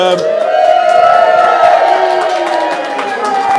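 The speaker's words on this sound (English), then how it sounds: "round of applause for Alan" A bar crowd at a live beer tasting claps and cheers for Alan, a steady dense wash of applause and whoops, with voices talking over it throughout.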